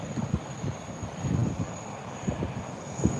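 Jet airliner at Heathrow at night, heard from the roof of Terminal 2: a low, rumbling engine roar with a thin steady whine above it, moderately loud and unbroken, with no talking.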